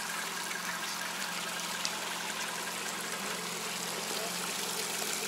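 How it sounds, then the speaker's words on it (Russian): An Orange Bio autonomous septic system pumps water out, a steady rushing trickle of flowing water over a constant low pump hum, close and unbroken. "Вот вода откачивается и пошла."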